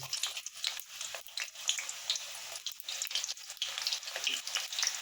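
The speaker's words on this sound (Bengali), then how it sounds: "আমার তেলটা গরম হয়ে গেছে। এবার আমি পেঁয়াজ কুচিটা দিয়ে দেবো।" Chopped onion hitting hot oil in a pan for a shrimp and taro dish, a bright crackling sizzle with busy popping bursts, fairly close and continuous.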